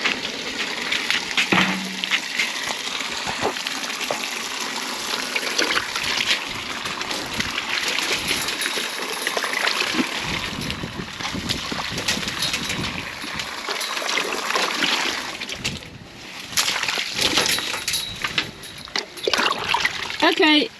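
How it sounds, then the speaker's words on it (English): Bucketfuls of water hurled against a wall on an off-grid building site in Portugal, landing in broad repeated splashes and splatters that run almost continuously, fairly loud and close, with a few voices heard in between. "I'm throwing water at a wall."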